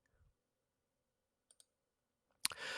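A computer mouse clicked on an OK button while setting up a virtual machine: two quick, very faint clicks in near silence, followed by a sudden louder burst of sound at the end.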